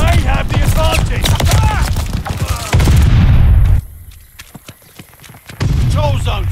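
Call of Duty Vanguard multiplayer combat, with sharp gunshots and a blast cutting through dense game voice lines, followed by a short quieter gap of scattered shots before talk resumes.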